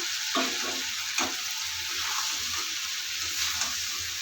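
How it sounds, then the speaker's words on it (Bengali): Cut okra fries in a spice masala with oil, a constant hissing sizzle broken by a few soft stirring knocks, close by. "দেখুন এখানে আমি কেটে রাখা ভেন্ডিগুলো দিয়ে দেবো"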